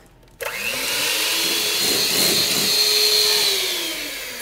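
Electric mixer beating eggs with brown sugar and a pinch of salt for a flourless chocolate cake, starting abruptly and then whirring steadily and loudly, close by, with no talk.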